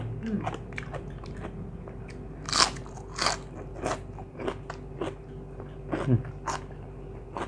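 Someone bites and chews a spicy Thai khanom jeen rice noodle salad with crispy fried shrimp, making sharp, close crunches at irregular intervals over a low background hum.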